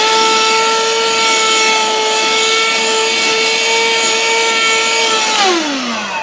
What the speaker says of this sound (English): It's got so much suction, it's sucking the material up into the end.